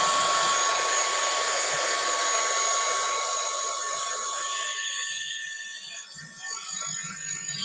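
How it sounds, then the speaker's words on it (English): A dryer blows steadily to dry a craft project, giving a loud, close, continuous whooshing hiss that weakens and softens near the end. No one speaks. "So let's give those a little bit of a blast dry, because they're not completely dry yet."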